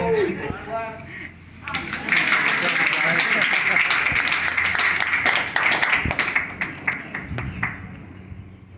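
Scattered audience clapping outdoors at an Everglades airboat park in Florida, a few seconds of moderate, fairly dense applause with broadband claps tapering off, a voice speaking briefly at the start and talk continuing underneath.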